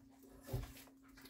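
A dog in a home kitchen gives a brief, faint whimper or soft bark, one short sound in the middle of a quiet room with a low background hum.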